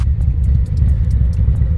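A Harley-Davidson motorcycle with a Khrome Werks exhaust and an adjusted Revo Arc air cleaner runs close by. It makes a brief, loud, deep rumbling idle with a throbbing pulse.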